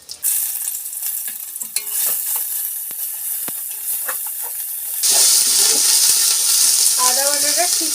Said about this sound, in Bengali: তেল গরম হয়ে গেছে, এবার আমি জিরে, শুকনো লঙ্কা, তেজপাতাটা দিয়ে দিচ্ছি।